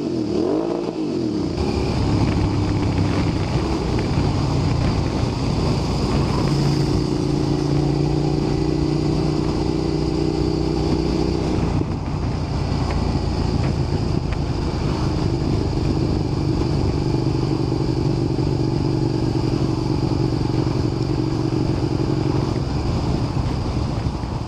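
A motorcycle engine revving during electrical voltage testing, a loud continuous drone whose pitch steps up and holds at higher revs before settling, alone without talk.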